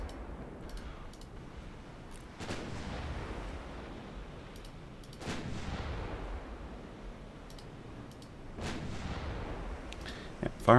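Heavy naval guns boom in a naval battle video game, three deep blasts spaced a few seconds apart, each followed by a rolling rumble, with faint ticking between.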